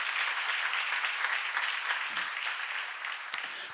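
Church congregation applauding during a Bible seminar, a steady wash of clapping throughout with no voices over it.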